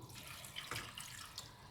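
A glass of water pours onto broken jaggery pieces in a kitchen pot for syrup, a brief soft splashing and trickle at low volume.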